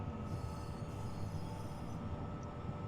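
A Class 745 electric multiple unit in Train Simulator Classic, running from Ipswich to London Liverpool Street, rumbles steadily with a continuous wheel squeal and rail noise, loud and unbroken throughout, with no talking.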